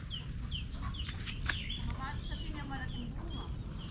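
Chickens cluck and call outdoors near a vegetable garden, with several scattered calls over a constant buzz of insects and crickets and a low background rumble.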